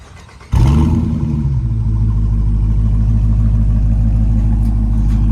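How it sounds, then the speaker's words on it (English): A 2023 Dodge Charger R/T Blacktop Edition with a 5.7 V8 and stock exhaust barks loudly to life close by, then holds a deep, steady rumble. No talk. "Let me give y'all an exhaust clip real quick too."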